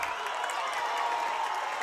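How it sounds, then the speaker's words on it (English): High school football crowd in the stands cheering and murmuring as a steady, distant wash of noise with scattered claps, no distinct peaks. "The stands on the other side, the visitors are getting loud. The Lion fans are getting noisy as well."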